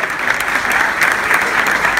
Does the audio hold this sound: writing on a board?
no